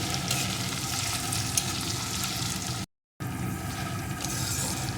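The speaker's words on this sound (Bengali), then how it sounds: "আমি চার কোয়া রসুন আর অল্প একটু আদা থেতো করে নিয়েছি এখন এটাকেও পেঁয়াজের সাথে একটু ভেজে নেব" Crushed ginger and garlic frying with onions in hot oil, a continuous close sizzle with light stirring and a short gap of silence partway through.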